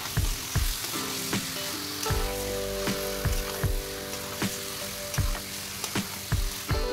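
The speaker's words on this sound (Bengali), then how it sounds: "চিকেনের পিসগুলো মশলার মধ্যে ভালো করে কষিয়ে নিচ্ছি।" Chicken pieces frying in spice masala for bamboo chicken biryani, with a steady sizzle under repeated sharp clacks and scrapes of a ladle against the pan at an uneven rhythm, close up and with no voices.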